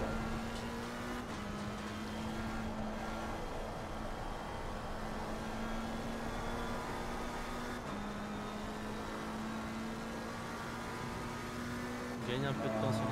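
A simulated race car in a sim-racing game holds a steady, droning engine note through a lap on a track with little grip, with brief gear-shift dips, while someone commentates over it.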